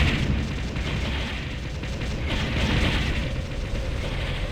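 An enemy structure blows up in the real-time strategy game Ground Control, a deep rumbling boom rolling on amid continuous battle noise, with no voice over it.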